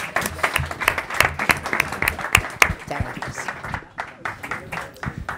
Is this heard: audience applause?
yes